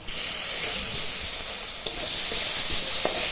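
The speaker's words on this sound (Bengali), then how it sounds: "আলুটা আমি লাল লাল করে ভেজে নিচ্ছি।" Potatoes and chopped onions fry in a pan with a steady, loud sizzle and hiss, a few faint clicks of stirring near the end.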